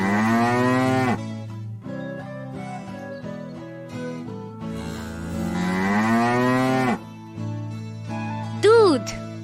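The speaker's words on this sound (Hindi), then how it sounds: "गाय" A cow moos loudly over a steady musical backing, two long lowing calls with a brief high chirp near the end; part of a children's classroom matching lesson about farm animals.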